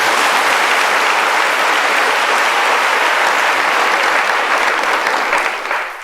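Loud, dense audience applause fills the hall steadily and evenly, a continuous wash of clapping with no voices over it, tapering slightly at the very end.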